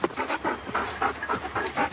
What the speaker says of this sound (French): des chiens de montagne à l'instinct très protecteur